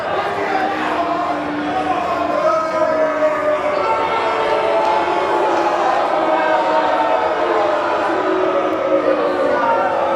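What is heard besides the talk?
wrestling crowd jeering Anthony Catena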